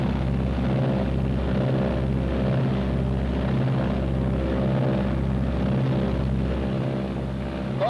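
Twin engines of a Martin B-26 bomber running up together to about 1,800 RPM, a loud, close, throbbing propeller drone with a steady rhythmic low pulse and no break in the roar.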